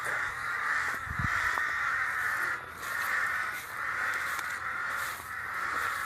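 Crows caw repeatedly in drawn-out, harsh calls over a cornfield, several in a row at a moderate distance, with no talking.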